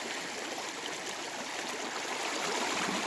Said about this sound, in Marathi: पाण्याचा खळखळ आवाज येतो ना मित्रांनो